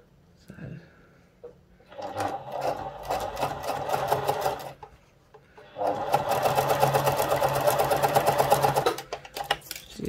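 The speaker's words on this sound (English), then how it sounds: "you can sew right up to the edge of the wire" A sewing machine stitches binding over millinery wire along the edge of a hat brim in two close, steady bursts of rapid whirring, with a brief pause between them.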